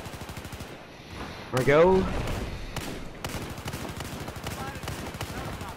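DMR rifle gunfire in the Battlefield 4 video game, with a sharp cracking shot followed by repeated firing and distant battle noise while a player talks briefly.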